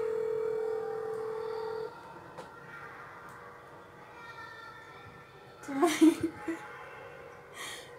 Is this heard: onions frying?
no